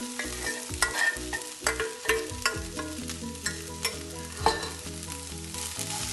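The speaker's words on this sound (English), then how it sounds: "And we give it a good stir." Soaked sabudana and golden-browned potato pieces stirred in a frying pan, a spatula scraping and clacking in a steady rhythm over a constant close sizzle, with a few louder knocks against the pan.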